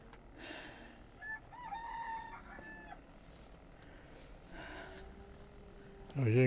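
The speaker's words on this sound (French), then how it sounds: "Il y a un coq dans le coin." A rooster crows from somewhere nearby while campers look out over a hillside in Bragança, Portugal, where their motorhomes are parked; several crows and clucks rise at moderate distance over outdoor ambience, with brief talk.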